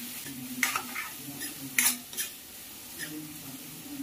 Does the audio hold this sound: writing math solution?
no